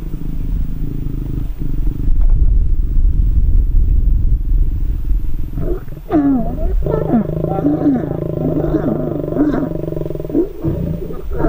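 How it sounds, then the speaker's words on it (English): A male lion courting and mating with a lioness in the wild gives deep, rumbling growls and snarls that swell into a harsh roar, close and loud, over a low idling vehicle engine. "So now we've got him here with a lioness that he's busy courting and mating with."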